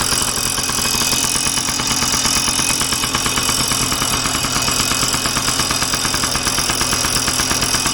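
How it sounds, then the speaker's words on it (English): A 1990 Yamaha PW50 motorcycle engine idles steadily and loudly up close, with a fast, even putter and a light metallic rattle running throughout. "there's a little bit of a rattle coming from the engine"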